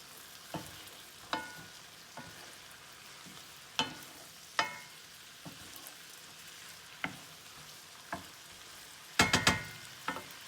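Parsley being stirred into garlic butter chicken tenders sizzling in a pan, a soft steady fry under scattered scraping stirs and utensil clicks, with a brief clattering burst near the end.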